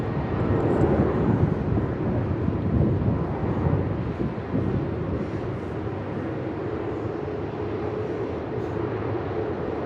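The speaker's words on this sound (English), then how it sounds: "cleared for takeoff, Qantas 604. Cleared for immediate takeoff." A Qantas airliner takes off at Melbourne Airport, its jet engines a loud, broad, steady roar heard from nearby and holding constant throughout, with some wind buffeting the microphone.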